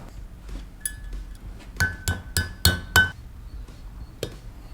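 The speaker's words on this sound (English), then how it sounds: "All right, now this pretty ring goes in." A bearing retainer ring is fitted into a bearing housing, producing a run of sharp, bright metallic clinks, about five close together in quick succession, then a single lighter tap after a pause.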